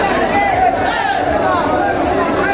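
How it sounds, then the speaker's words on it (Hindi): A huge crowd of pilgrims heading to Kamakhya temple for the Ambubasi Mela makes a steady, dense hubbub of overlapping voices, loud and close throughout, with no single speaker standing out. "देखिए लोग, देखिए कितना कितना भीड़ लगा है"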